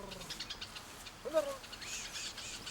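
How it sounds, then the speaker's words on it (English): A honeyguide bird calls during a Ndorobo honey hunt in the wild, giving faint chirps and one brief clearer call over steady outdoor background noise. "The men call upon another honey guide bird for another nest."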